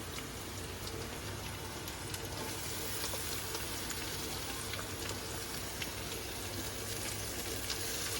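Boiled dried fish (shutki) fries in a pan, making a soft, even, rain-like sizzle that stays constant throughout, quiet and heard on its own.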